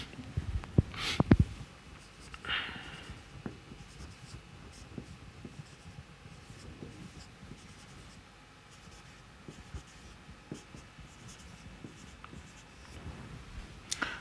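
Marker or chalk writing on a board during an engineering lecture on damped vibration, faint intermittent scratchy strokes and taps in a quiet room, with occasional small bumps.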